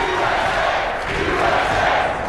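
A big crowd cheers and roars at a Mosconi Cup pool match, Oscar Dominguez vs Ralf Souquet, as a steady, loud wash of voices that lasts throughout.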